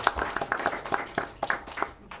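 Scattered hand claps from a small audience at a Rialto school district board meeting, a sparse run of individual slaps close by, fairly quiet and brief.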